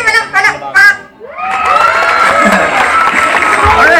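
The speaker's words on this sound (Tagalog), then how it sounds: "ang dami mo na pumalakpak sa'yo" A large crowd cheers, whoops and shouts with children's voices mixed in, welcoming a performer onto a stage; the loud sustained roar swells after a short burst of speech and holds steady to the end.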